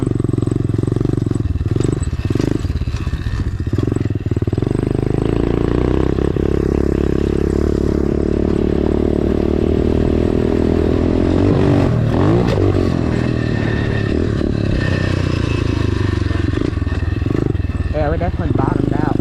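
A dirt bike ridden around and over a homemade plywood ramp, loud engine revving with rising and falling pitch, clattering and scraping throughout.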